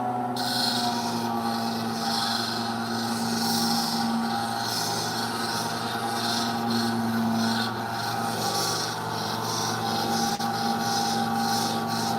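A petrified palm rock is ground on a 1000 grit wheel, a steady close grinding rasp that runs continuously over a constant motor hum with no break and no talking.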